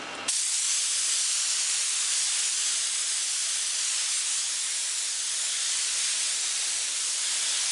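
A paint spray gun hisses in a steady, loud, continuous rush as a coat goes on for a ghost flames paint job, starting abruptly and holding an even spray with no talk.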